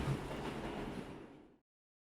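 A train runs in a visual novel game, a steady rumbling roll with faint rhythmic clatter that fades out and stops, leaving near silence.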